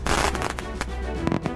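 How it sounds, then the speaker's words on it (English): A firework bang in a comedy skit, a loud broadband crackle of sharp pops and bursts that spreads through the whole moment with no talking. "This firework slaps, Charm!"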